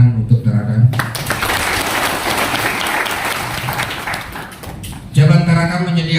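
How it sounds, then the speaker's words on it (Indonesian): A hall full of delegates bursts into sustained applause for the Tarakan branch at an Indonesian plenary session, a dense wash of clapping lasting about four seconds, framed by someone speaking before and after. "tepuk tangan untuk Tarakan"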